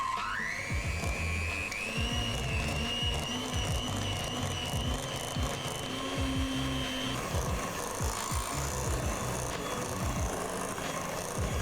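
An electric mixer beats cheesecake filling of cream cheese and Nutella, its motor whining up in pitch and then holding a steady, close hum under rhythmic rattling from the bowl.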